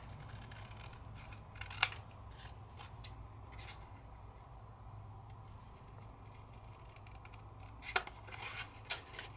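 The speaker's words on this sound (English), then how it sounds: "Cut my house out." Scissors cut a house shape out of paper, giving faint, close snips and rustles against a quiet background, with a couple of sharper clicks.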